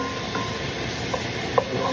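Chicken pieces frying in a skillet make a dense, continuous close sizzle, with a couple of faint clicks over the crackle.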